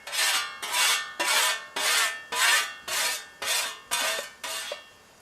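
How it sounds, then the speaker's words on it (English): A tool rasps along the freshly peened edge of a scythe blade to remove the burr, nine even strokes in a steady rhythm, close up and alone. "And then just to remove the burr on the other side."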